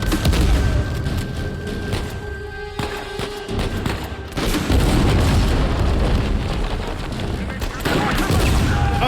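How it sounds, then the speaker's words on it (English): Shotgun blasts ring out in the video game Uncharted 4 during a firefight, loud booming shots in a dense barrage mixed with explosions and game effects, while a player talks over it. "Oh great, that's shotguns."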